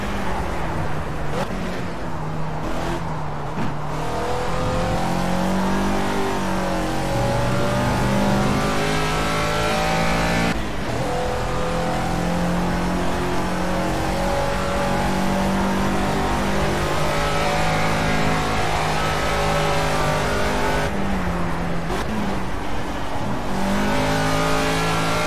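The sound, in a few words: Caterham Super Seven race car engine in video game Project CARS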